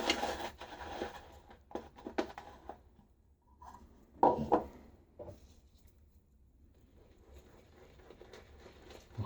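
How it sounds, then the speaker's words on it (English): A shaving brush scrubbing lather around in a bowl during a wet shave, close, soft swishing and rubbing strokes in irregular bursts, quiet with a louder scrub midway. "scrub around in my bowl just a little bit to kind of get some more"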